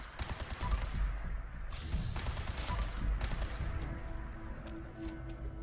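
Laser pistol firing in Fallout 76, a rapid stream of sharp crackling shots repeating over several seconds amid game combat noise.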